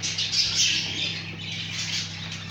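Pet bird chicks in a nest box inside a large breeding aviary give continuous harsh, raspy squawking, close and loud, over a low steady hum.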